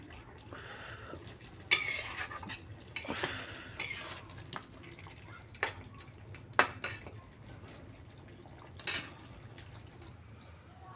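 Chicken curry cooked without masala being stirred in a pot, with scattered metal spoon scrapes and clinks against the pan and soft wet mixing sounds over a steady low kitchen hum.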